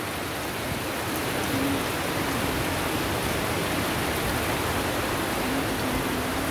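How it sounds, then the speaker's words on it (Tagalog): Heavy typhoon rain pours steadily in a dense, hissing wash, loud and continuous with no breaks, in Amadeo, Philippines. "Ngayon yung lakas ng ulan"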